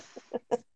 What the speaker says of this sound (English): It's lovely to hear it. The birds.